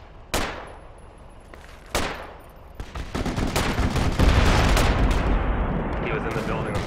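Automatic AR rifle gunfire in the tactical shooter Project Reality, first two sharp single cracks, then sustained rapid bursts echoing around a building. Loud and close, with a dense roll of shots.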